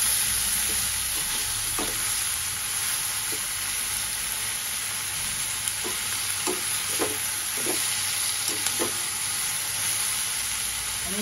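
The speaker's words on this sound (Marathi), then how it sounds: "छान परतून घेऊया." Green prawns sauté in a hot pan with a constant loud sizzle, while a spoon scrapes and stirs in intermittent clinks and scrapes over the frying hiss.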